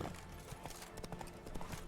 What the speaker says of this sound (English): Calma, cavalo.